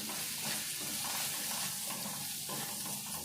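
A spoon stirs roasted peanut, coriander and fenugreek powders into an okra gravy frying in oil, giving a steady close sizzle with soft scraping and stirring throughout; no speech.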